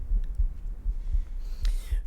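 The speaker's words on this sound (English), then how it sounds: "And then there is this cosmic heartbeat almost that you hear, kind of this ping." A low, soft, regular thumping pulse like a cosmic heartbeat repeats steadily at close range, with faint airy pings and a shimmering swell toward the end.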